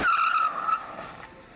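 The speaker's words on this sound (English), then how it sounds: "doing the donuts in the cars." A car's tires skid and squeal loudly while doing donuts, one sustained screech up close that fades after under a second, no talking.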